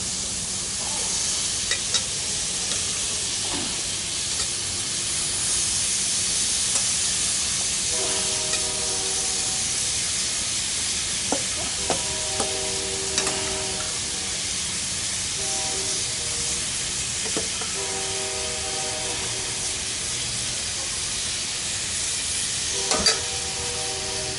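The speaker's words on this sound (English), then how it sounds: "Right onto our salt block. Oh yeah. Real sizzle." Constant hissing sizzle of chicken searing on a hot salt block, with scattered clicks and faint tonal squeaks over the steady crackle.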